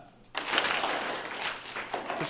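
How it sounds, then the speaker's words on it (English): After a brief quiet moment, an audience breaks into clapping that swells quickly and carries on as a scattered round of applause, rather than the single clap that was asked for. "if you learned something today, give me one clap"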